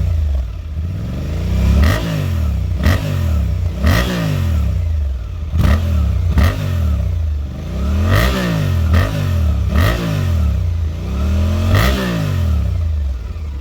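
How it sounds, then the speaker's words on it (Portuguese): Suzuki V-Strom 800 two-cylinder motorcycle engine revved repeatedly while standing still, about eight rising and falling throttle blips in a steady rhythm, close and loud with no talking. "ligar aqui a moto para vocês poderem escutar o ronco"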